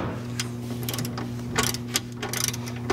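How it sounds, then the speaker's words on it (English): A torque wrench tightens a nut on the rear suspension of a BMW E39 to 189 foot-pounds, giving scattered ratcheting clicks over a steady low mechanical hum, close by and without speech. "I'm gonna go ahead and torque the spec here"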